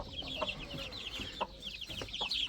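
A mother hen clucks in short, repeated bursts close by, while her small black and yellow chicks peep in thin, high, rapid chirps around her.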